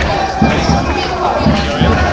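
A colorfully dressed crowd with flags and signs gathers at a May Day rally, a steady murmur of many voices and shuffling with a few soft thumps, moderately loud and continuous.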